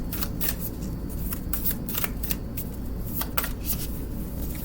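Oracle card decks are handled and stacked on a small table, giving a run of quick papery riffles and soft taps that repeat irregularly, close and fairly quiet, with no talk.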